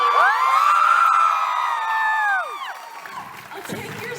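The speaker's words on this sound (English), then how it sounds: "I'll take your screams as a sign of excitement and not that any of you are in physical pain." A live comedy show audience in Toronto screams, whoops and cheers loudly in a big, sustained crowd roar that fades into scattered shouts and applause.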